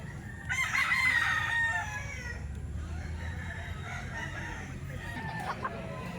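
A nine-month-old rooster crows once, loud and close, a drawn-out call near the start, followed by lower clucking and background noise.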